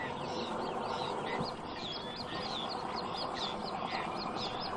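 Wild birds call on wooded, sandy river islands near Chernobyl, a dense chorus of chirps and squawks over a steady, noisy outdoor background.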